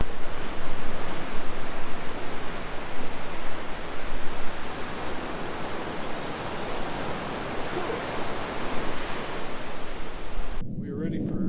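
Surf breaks steadily on an empty beach on Washington's Olympic Peninsula, a broad continuous roar with gentle swells and some wind buffeting the microphone. The sound drops off abruptly at the very end.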